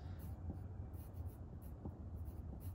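A number is written by hand with a pen or pencil during a math quiz, a faint, continuous scratching with small rhythmic strokes, heard alone and quietly.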